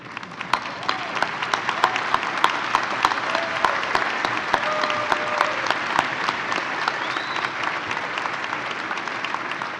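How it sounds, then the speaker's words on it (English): Graduates at an autumn university convocation give their families and friends a warm round of applause, a dense, sustained ovation from a large hall crowd with sharp individual claps standing out throughout, loud and continuous. "turn around, face your family and friends, and give them a warm round of applause for supporting your journey"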